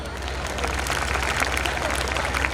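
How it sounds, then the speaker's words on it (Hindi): Dense, steady applause from an audience at a school annual function, filling the whole stretch at a constant level with no break. "उसके लिए भी तालियां हो जाए"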